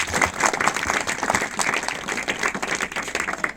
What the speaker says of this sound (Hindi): ताली बजा एक बार अपने लिए।